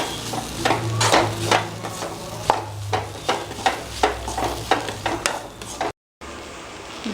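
Okra sautéed with turmeric and spices in a pan, a steady sizzle broken by repeated scraping stir strokes in an irregular rhythm, close and moderately loud, with a brief dropout near the end.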